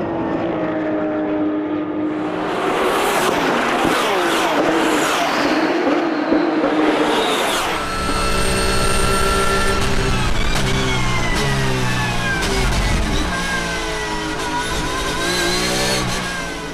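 A tightly grouped field of race cars at the Paul Ricard circuit in Le Castellet, early in a ROSCAR race, roars past with loud, continuous engine noise, revving and shifting pitch as cars sweep by the microphone.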